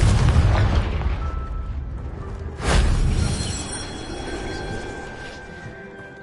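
A Confringo blasting spell goes off in Hogwarts Legacy, a loud booming explosion about midway through that rolls out over a dense rumbling battle background and slowly fades.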